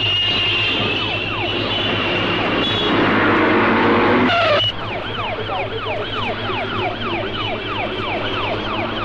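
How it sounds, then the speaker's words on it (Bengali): An ambulance siren wails continuously in an action movie scene, loud and close, shifting from a steady tone into rapid rising and falling yelps, with traffic noise underneath. "অ্যাম্বুলেন্সের সাইরেন শুনতে পাননি?"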